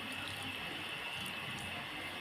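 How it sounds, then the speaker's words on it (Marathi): Steady trickle of water being poured little by little into flour to knead dough, a continuous wet splashing hiss with no voices, close and moderately quiet throughout. "अशा पद्धतीने थोडं थोडं पाणी ॲड करून"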